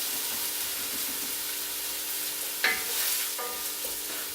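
Chicken pieces sizzle steadily in a hot pan while being stirred and browned, a constant hiss of frying with a sharp scrape or knock partway through and light clatter after it.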